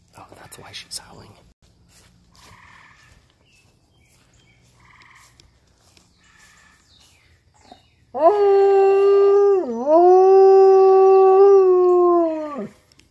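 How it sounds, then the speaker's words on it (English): A wolfdog lets out a loud, close, sustained howl that dips in pitch midway and then holds. Before it, a few soft whimpers and quiet murmuring voices can be heard. "Oh, that's why she's howling."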